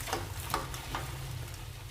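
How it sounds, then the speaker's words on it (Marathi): Soft, steady sizzle of wet masala paste roasting in a pan for Kolhapuri chicken masala, faint and close, with a few light stirring taps over a low background hum. "मसालाही छान भाजून घ्यायचा याच्यामध्ये."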